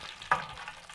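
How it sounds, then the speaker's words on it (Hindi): Bay leaf and chillies dropped into hot oil with cumin for a tadka give two short, bright sizzling bursts over a faint background crackle, close and fairly quiet, with no talking. "अभी इसमें 1 तेज़पत्ता और 3 से 4 ये कोकन मिर्चें हम डाल देंगे और बहुत अच्छा सा तड़का तैयार कर लेंगे।"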